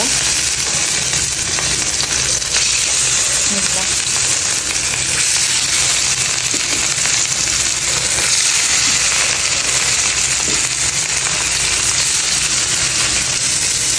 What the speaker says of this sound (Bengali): একটা একটা করে মাছ দিয়ে ভেজে নেব।